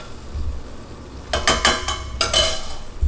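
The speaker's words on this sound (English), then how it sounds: "Get this butter melting." Butter melting in a pot over medium heat for a shrimp and grits sauce gives off a few close, crackling sizzle bursts after a quiet start, with no talking.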